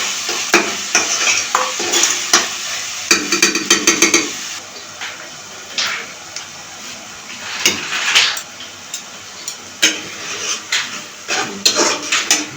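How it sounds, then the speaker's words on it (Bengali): Chopped onions fry and sizzle in a pan while a spatula stirs and knocks against the metal in repeated scraping, clattering strokes, loud and close with no speech. "আমি সেগুলো নেড়ে ছেড়ে দেবো।"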